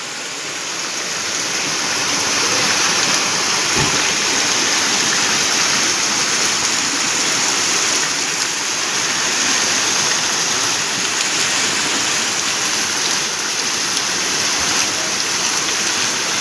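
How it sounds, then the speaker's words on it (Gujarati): Heavy rain shower pouring down steadily during a day of continuous rain, a loud, even hiss of falling water with no breaks, close and constant throughout. "પણ અત્યારે વધારે જ ઝાપટું પડ્યું"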